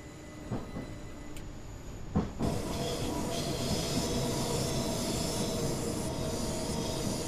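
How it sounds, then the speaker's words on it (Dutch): Long train running in Train Simulator 2016 on a London route: a steady, loud rumble of wheels and carriages that swells after a brief pause, with faint clicks early on and no talk. "Er komt ook weer een hele lange trein uit."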